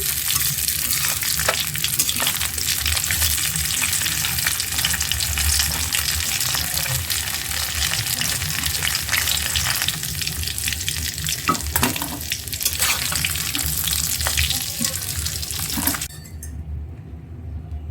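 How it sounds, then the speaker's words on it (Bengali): Koi fish frying in a pan, a steady loud sizzle running throughout with occasional clinks and stirring scrapes, cutting off abruptly near the end. "আজকে দুপুরে রান্না বাড়া শুরু করলাম কই মাছ রান্না করব কই মাছ ভেজে নিচ্ছি"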